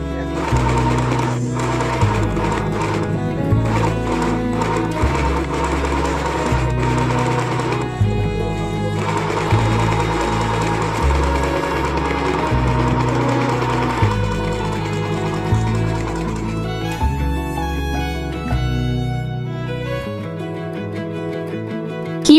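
Sew Simple sewing machine stitching fabric with an overcast/overlock foot, a loud steady mechanical whirring with rhythmic needle chatter, pausing briefly and restarting in bursts.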